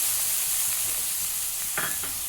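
Tomatoes tipped into hot oil with cumin and green chillies, sizzling steadily with stirring scrapes and a brief louder burst near the end, close up and without talk.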